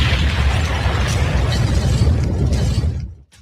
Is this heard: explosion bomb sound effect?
yes